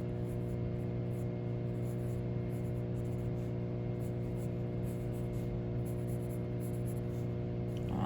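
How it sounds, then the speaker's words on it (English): A candy sketch is drawn on paper in quick, repeated scratchy strokes, close and fairly clear over a steady low background hum. "I'm going to draw this candy nice and large"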